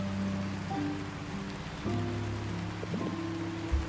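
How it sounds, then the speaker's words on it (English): Steady rain patters on surfaces in the video game Until Then, a continuous wash of drops with low tonal background music humming underneath. "Oh dear. Raindrops."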